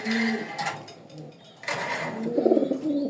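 Racer pigeons coo softly in low, throaty bursts, with a louder rolling coo near the end; some background noise and faint voices around them.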